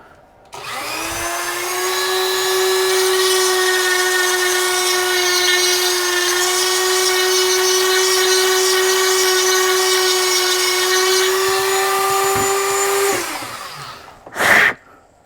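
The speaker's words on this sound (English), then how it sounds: "I'm going to go in there with the Dremel and grind this out" A high-pitched Dremel rotary tool grinding out a sculpted figure's head whines steadily for about twelve seconds, loud and close, then winds down, followed by a brief sharp noise.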